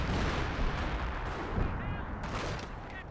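Dense battle noise from the game Company of Heroes with an MG42 machine gun firing amid heavy artillery-like blasts and gunfire, loud and continuous with overlapping bursts.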